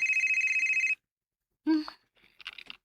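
An incoming call rings on a telephone, a loud, fast, regular electronic trill lasting about a second before cutting off, followed by brief clatter and a short bit of speech.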